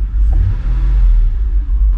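A 2003 Mercedes CLK 430 V8 running on a booster pack without its alternator, a loud, close, deep engine rumble that swells and eases through brief revs.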